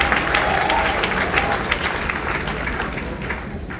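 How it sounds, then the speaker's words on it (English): An audience at a tech hackathon event gives a round of applause, a loud, dense wash of clapping that tapers slightly toward the end. "A big round of applause for showing up here."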